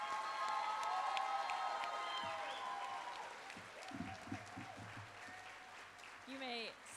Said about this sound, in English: more round of applause for these graduates tonight